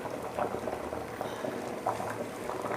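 Cassava (tapioca) boiling in a pot of water, a steady close bubbling and gurgling with irregular louder pops, heard alone without speech.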